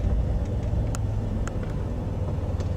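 A 1985 Chevrolet Camaro Sport Coupe with an automatic transmission driving around a neighborhood, heard from inside as a steady low engine and road rumble with a few faint clicks and no talking.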